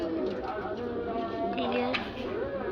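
Pigeons of a prized breed coo softly in a loft, their low, repeated throaty calls running beneath someone talking close by.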